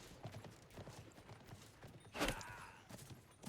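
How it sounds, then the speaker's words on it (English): Horse hooves clip-clop faintly in a strategy video game match, a quick rhythmic patter of steps with a brief louder impact burst midway. "Takes out his horse."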